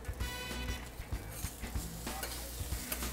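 Fried rice being mixed with salt in a hot frying pan, with a steady sizzle under repeated scraping stirs of a utensil, close and continuous, no talking.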